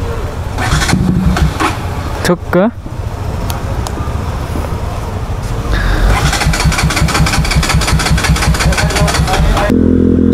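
A stalled motorcycle engine is cranked and starts, with a sputtering turnover and then a steady loud idle revving near the rider on a road ride; a voice briefly speaks over it.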